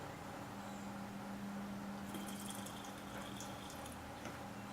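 Liquid latex pours from a can held with the spout at the top, a steady, close liquid trickle running without a break and with no voices over it.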